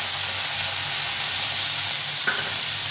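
A paste of ground cumin, ginger and green chili fries in a hot pan while cooking fish curry, giving a loud, continuous close sizzle with a single faint clink partway through.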